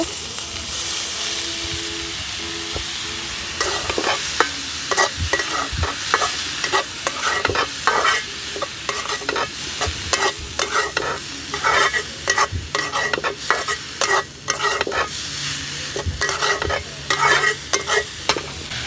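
Boiled, drained banana stem goes into a hot pan and fries, with a loud sizzle and hiss and frequent rhythmic scraping of a spatula stirring against the pan, close and continuous.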